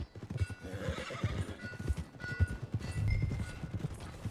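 Horse hooves clip-clop steadily in Red Dead Redemption 2, close and fairly loud, with a horse snorting and whinnying over the rhythmic footfalls and faint game ambience underneath.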